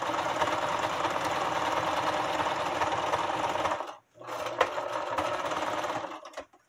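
A sewing machine back-stitches a hooded towel, running loud and continuous up close, breaking off briefly midway, then resuming before a final pause.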